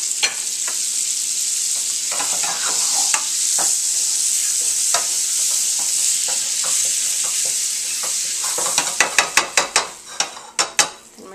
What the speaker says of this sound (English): So we're going to add some butter to the pan.